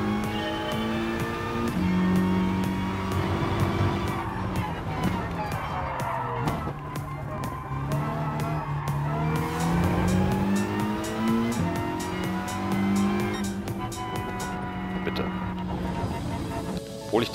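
A race car in Gran Turismo Sport accelerates hard, its engine note climbing and dropping through gear changes with occasional tire squeal, loud and steady throughout, with someone talking over it.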